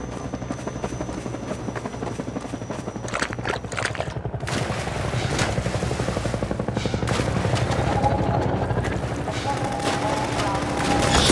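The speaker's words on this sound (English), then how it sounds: "Helicopter! No!" Helicopter in the Half-Life 2 video game, a loud continuous rotor chop with rapid bursts of gunfire layered over it, building slightly in intensity and heard close up.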